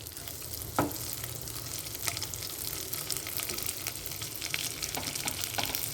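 Semolina chushi pitha simmering in milk with soft bubbling and a steady low sizzle, broken by a few faint scrapes of a gentle stir.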